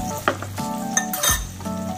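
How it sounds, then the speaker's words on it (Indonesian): Palm sugar being stirred in a pan until it melts, with a spoon scraping and clinking against the metal over a soft sizzle, several distinct scrapes and taps, close and alone. "Nah ini kita aduk-aduk sampai gula jawanya larut ya."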